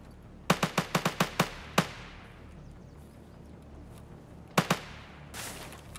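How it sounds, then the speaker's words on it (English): Gunfire in the video game Escape from Tarkov: a rapid burst of about seven sharp shots, then a lone shot, then a quieter pause before two or three more cracks. Each shot rings with a short echoing tail. "was rewarded shortly after with gunfire ahead"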